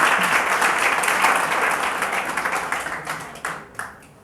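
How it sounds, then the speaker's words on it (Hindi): Audience applause at a school lecture event honouring an RPSC history exam topper, a dense sustained wash of many hands clapping that thins and tapers into a few scattered claps near the end. "तालियों में कोई कंजूसी नहीं होनी चाहिए।"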